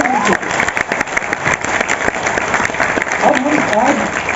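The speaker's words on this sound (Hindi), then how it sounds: "a big round of applause for him" Audience applause for someone at a live talk, a steady wash of many clapping hands with some crowd noise, loud and continuous throughout, with a voice talking over it in places.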